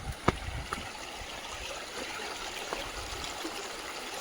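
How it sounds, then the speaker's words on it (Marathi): A river being crossed on a trek between Pune and Lonavala flows with a steady, soft rush of water, with a few faint clicks and knocks near the start and no talk. "म्हणजे खूप सूदिंग साऊंड आहे वॉटरचा."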